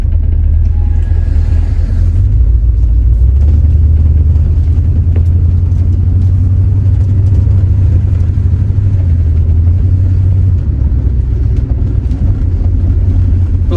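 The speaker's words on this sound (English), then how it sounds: "Carburetor's really struggling." A 1976 Ford Granada's engine runs with a struggling carburetor and a gummed-up needle and seat, a loud, steady low rumble that surges and dips unevenly as it labors, with no voices over it.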